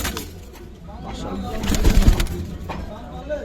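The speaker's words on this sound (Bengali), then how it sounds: "আমরুল ভাইয়ের আজকে উড়ানো কবুতরগুলো দেখি" Giribaz and coloured pigeons coo in low, throaty murmurs close by, with a soft rustle of movement and a brief swell of sound near the middle.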